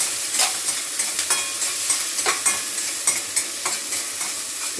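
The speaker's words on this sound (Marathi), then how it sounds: "फटाफट कांदा टमाटा परतून घेते" Onion and tomato sautéing in a pan hiss steadily, close and fairly loud, with regular spatula scrapes and stirs about twice a second.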